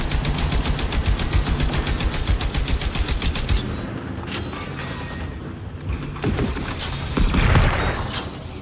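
Rapid automatic gunfire in the video game Generation Zero, a loud burst of steady shots for several seconds that stops abruptly, followed by quieter mechanical creaks and a brief swell of noise, with no talk.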